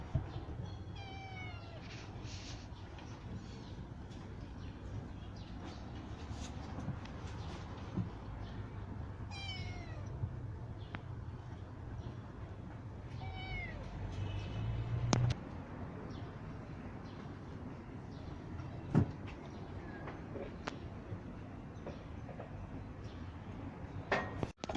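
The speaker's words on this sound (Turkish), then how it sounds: "Bakın bu anne kedi de yavrularını büyüttü." Mother cats and their grown kittens meow on and off, several thin high cries scattered over a quiet room, with an occasional soft clatter or knock.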